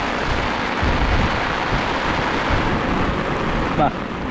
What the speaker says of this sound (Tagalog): Lumakas po ng ulan.